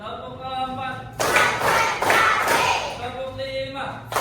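A class does the rhythmic 'tepuk siap belajar' clapping routine in a classroom. After a teacher speaks, there are bursts of loud, close clapping in a patterned rhythm, and voices come in near the end.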